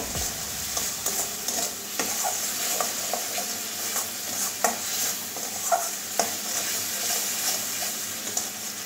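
A spice mixture for taro curry, with a pinch of sugar added, is stir-fried in a pan. It gives a steady close sizzle with repeated scraping and clinking stirring strokes and no talking.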